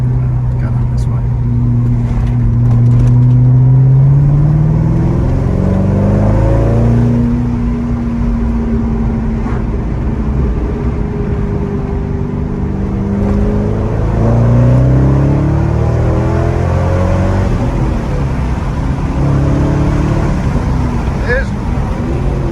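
A Corvette C5 with a manual LS1 V8 accelerates hard on the road, its engine rising through repeated gear changes and booming loud inside the cabin while people talk.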